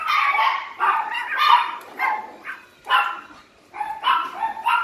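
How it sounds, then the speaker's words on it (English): Several dogs bark in short, sharp bursts that come and go irregularly from a moderate distance, with brief quiet gaps between the volleys. "Noisy dogs."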